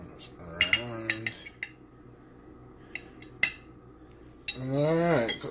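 A fork clinks against dishes during the mixing of tuna and veggies, giving a few sharp metallic taps spread through the moment, with a voice talking at the start and again near the end.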